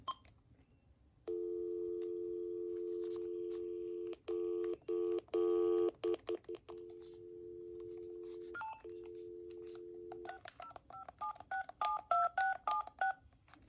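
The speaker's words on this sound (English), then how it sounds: "So let's go ahead and listen to the speakerphone." An AT&T Jazz telephone on speakerphone gives a steady dial tone, then a run of short beeping dialing tones, followed by a rapid series of higher chirps. The sound is clear and close, with no talking.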